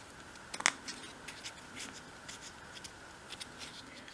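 Small scissors snip fabric for a 1/12th scale dollhouse stair basket, giving one sharp close cut followed by faint, sparse trimming ticks in a quiet room.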